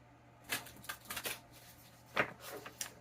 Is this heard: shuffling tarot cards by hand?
yes